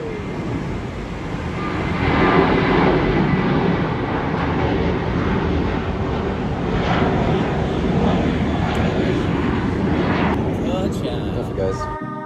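A passenger airplane begins rolling for takeoff on the Gibraltar runway, its engines a loud, sustained roar heard from nearby, with people talking over it.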